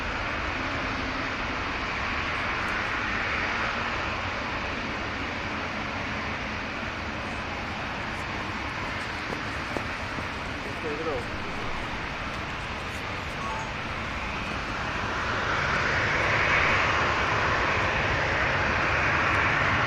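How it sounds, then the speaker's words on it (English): A Qatar Airways Boeing 777 arriving at Manchester Airport. A steady, moderately distant jet rumble runs throughout and grows somewhat louder near the end. "Had the arrival of the Qatar Airways 777 as well."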